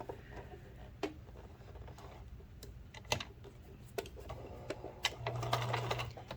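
A sewing machine stitches men's shirt fabric into a dress, with a few scattered clicks and taps before a short steady hum of backward stitching near the end, close up with no talking.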